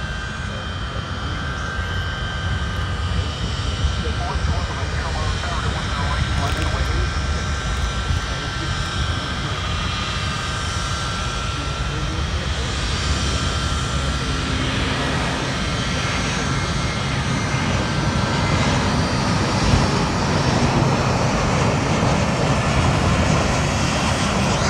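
A passenger jet at Fort Lauderdale airport roars continuously nearby, its engine noise building slightly toward the end, with people talking underneath.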